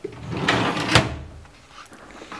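A desk drawer in a small home office slides open or shut, a couple of soft wooden knocks and scrapes close by, with faint room noise after.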